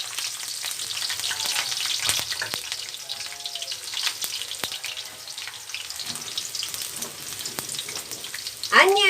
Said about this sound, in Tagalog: saute garlic. Let the garlic brown.